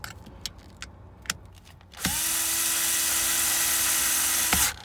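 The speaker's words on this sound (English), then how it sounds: "take our screwdriver, and we're going to go ahead and put these screws down" A powered screwdriver drives screws into an Alfa Romeo battery post clamp: a few light clicks and taps, then a steady high motor whine runs for nearly three seconds before stopping abruptly.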